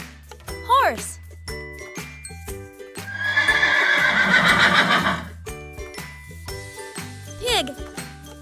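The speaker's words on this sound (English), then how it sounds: "Horse." A horse whinnies in a loud, long neigh at close range, with shorter whinny calls before and after, set over light jingling music.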